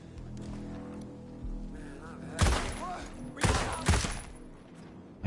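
A few gunshots fired in the tactical shooter Ghost Recon, played in stealth: three loud, sharp reports in close succession, the first standing alone and the last two nearer together, over a low steady game-ambience bed.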